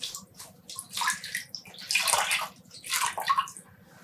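Hand-dyed yarn rinsed under running water, a steady close splashing and gurgling flow that surges and swirls in waves as the yarn is worked under the stream.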